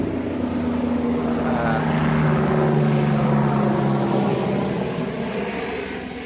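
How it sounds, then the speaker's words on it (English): A medical helicopter passes overhead, its low steady rotor drone building and then slowly easing off, heard alone and loud with no talk. "that's a medical helicopter, so nothing to do with the 4th of July"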